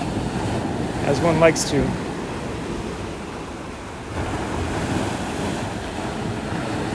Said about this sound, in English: those waves are impressive